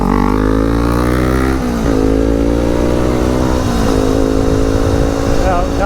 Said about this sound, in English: when a motorcycle rolls up next to you at the light